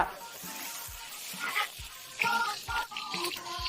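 Beef dropped into a hot wok and stir-fried, a soft broadband sizzle with scraping and clinking of a spatula against metal, fairly quiet and irregular.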